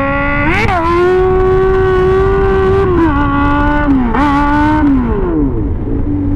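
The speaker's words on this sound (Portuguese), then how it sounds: "Então vamos dar uma tirada de giro, ó." Honda Hornet motorcycle engine revved in neutral, loud and close, climbing in pitch in several throttle blips that rise and fall back to a steady idle.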